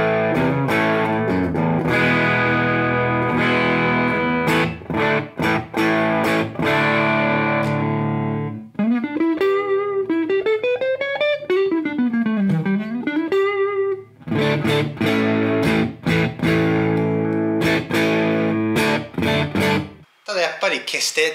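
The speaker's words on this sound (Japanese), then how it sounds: "歪みの粒立ちがこうゴロッと大きくて腰のある感じっていうんですかね。" An electric guitar plays chords and a bending single-note lead through a distorted boutique-style amp with a chunky, thick grain, sustained notes ringing alone for twenty seconds.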